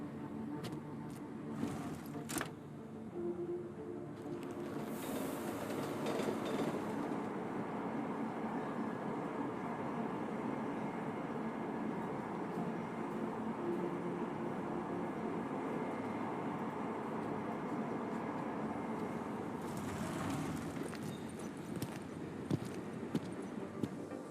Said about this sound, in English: No trains are supposed to stop here